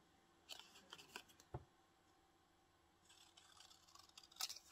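Scissors snipping paper for a collage, a quick cluster of crisp close cuts and rustles followed by a quiet pause, then more faint snipping and paper handling.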